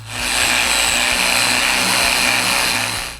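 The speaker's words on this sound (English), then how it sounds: "Afterward, I sand all the other moldings that I made." Electric sander working over handmade wooden moldings, a steady, loud broadband whir with a low pulsing hum, running continuously and alone.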